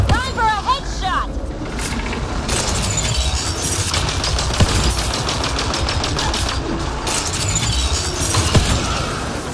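Mass Effect Andromeda combat with rapid bursts of gunfire, mechanical clatter and sharp cracks over a steady roar, loud and close throughout, with voices shouting over the shooting.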